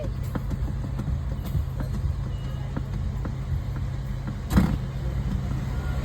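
A car climbs uphill on a monsoon-season family trip, its engine a steady low drone throughout, with a brief louder thump near the end and people talking inside.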